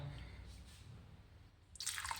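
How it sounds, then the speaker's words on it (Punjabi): Cold water poured into cream in a pressure cooker while making homemade ghee in a kitchen, heard as a short, bright splash and trickle near the end after a quiet stretch. "ਲਓ ਜੀ ਠੰਡਾ ਪਾਣੀ ਪਾਤਾ"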